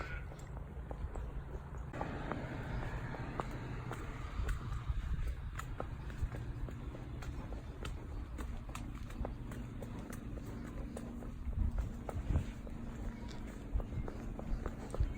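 Hooves of Cracker, a horse on a solo hacking ride, clip-clopping at a walk in a steady close rhythm over a low rumble of background machinery, with no talk.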